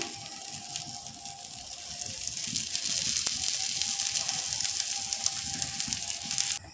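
Sabudana and egg paratha frying in oil on a pan, a steady close sizzle that swells slightly as more oil goes in, continuous with no talking.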